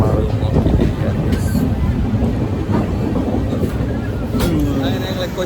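A passenger train on a Kerala journey from Kasaragod to Kochi rumbles with a loud, continuous low roar and rattle, faint voices murmuring underneath.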